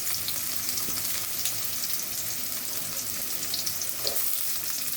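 Chopped onion and garlic frying in hot oil for fried rice, a steady dense sizzle that holds evenly throughout, close and continuous with no voices.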